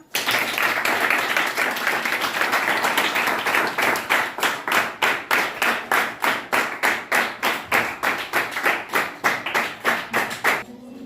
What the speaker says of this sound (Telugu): క్లాప్స్ కొట్టండి రా